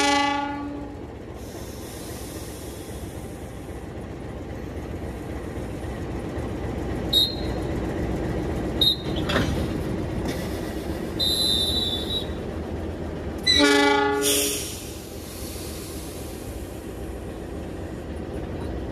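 Gajayana passenger train with a CC 206 locomotive at a station in Yogyakarta sounds its horn in several loud, close blasts, with steady rail-yard rumble between them and no talk.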